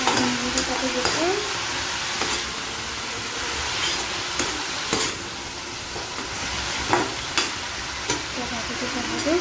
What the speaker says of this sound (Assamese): ভাজিটো বনাই দিওঁ